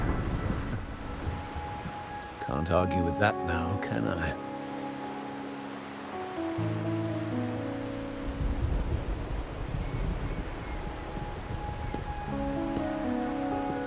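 Steady rain falls in a video game setting, a soft continuous hiss with occasional distant rumble beneath it, while a person speaks over it and game music plays.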